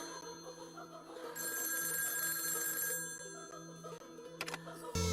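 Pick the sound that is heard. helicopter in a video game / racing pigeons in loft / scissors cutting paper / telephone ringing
telephone ringing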